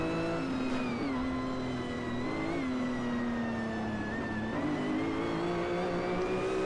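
Mercedes-Benz CLK GTR race car in Assetto Corsa, its engine accelerating steadily with a rising harmonic whine, loud and continuous with a slight dip and climb in pitch, no talk.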